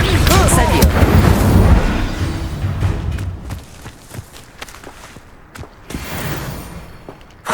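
Incendio fire spell cast in Hogwarts Legacy, a loud fiery blast up front fading into scattered impacts and footstep-like thuds, with a sharp hit at the end.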